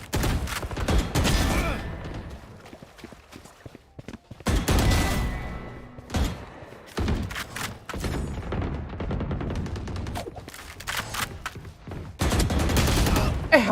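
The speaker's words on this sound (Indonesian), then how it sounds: "ada suara tembakan" Bursts of rapid gunfire and explosions from a Valorant match, NRG vs LOUD, loud and close, in repeated volleys with brief quieter gaps between them.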